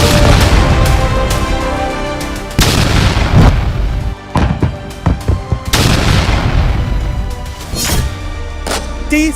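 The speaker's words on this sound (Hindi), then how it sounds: "सरहद पर भारतीय तोपों की गरज से पाकिस्तान क्यों हिला हुआ है?" Indian Army artillery guns firing during a war rehearsal exercise at the border, heavy booming blasts repeating several times across the span, loud and close, with sharp cracks and rumbling between shots and no speech.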